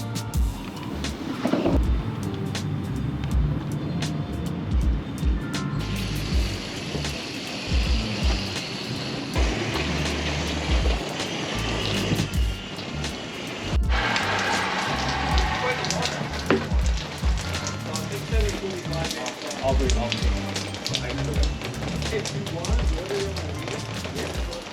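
Hose spray washing dust off a boat on prep day, a steady broadband hiss running throughout at close range, with a voice talking over it.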